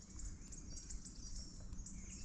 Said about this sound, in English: Wow, there's like a whole convention of birds here.